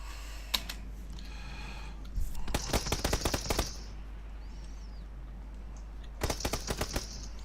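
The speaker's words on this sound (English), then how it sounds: "he hears this gunfire" Automatic gunfire in the battle royale game PUBG, two distant bursts of rapid shots separated by a quiet pause, with a lone single crack just before them.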